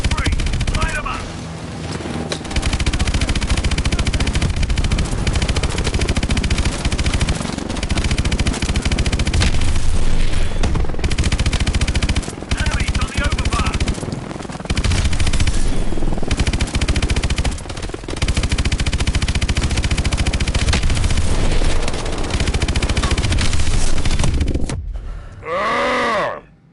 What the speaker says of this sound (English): Mitchell, weapons free. Light him up